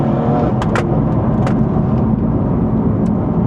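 BMW M4 GTS engine accelerating on a track, heard as a loud, continuous low roar with dense rumble and a few brief higher pops or crackles, steady and close throughout with no talk.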